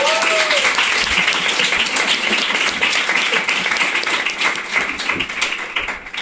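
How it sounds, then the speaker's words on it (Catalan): A studio audience applauds loudly and steadily for a guest on a Catalan talk show, the dense clapping holding close and even for several seconds with a few voices mixed in. "Un aplaudiment per l'Anna."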